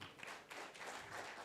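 An audience at the KRSSDI 2023 conference applauds Dr. Anil Kumar with dense, steady clapping that sounds faint and distant and runs through the whole short moment.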